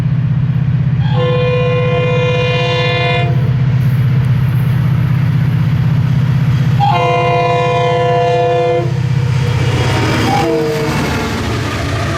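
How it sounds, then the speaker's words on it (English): Two long, loud blasts of a diesel locomotive horn sound at a crossing over a heavy rumbling freight train, the second blast fading into clattering rail noise. "As the gates activated and I heard that non-GEVO horn, I already knew it had."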